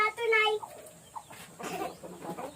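A rooster of a Chinese chicken breed clucks briefly up close on a farm, followed by soft rustling and faint low voices nearby.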